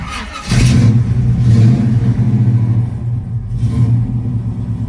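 A 1969 Chevrolet Camaro RS engine fires up and runs with a loud, deep rumble, revving up once and then holding a strong idle close by, alone without talk.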